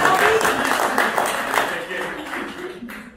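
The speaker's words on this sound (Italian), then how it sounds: "Un applauso a Roberta!" An audience at a choir concert in an Arci club hall in Bagno a Ripoli gives a dense burst of applause that starts strong and slowly fades over a few seconds.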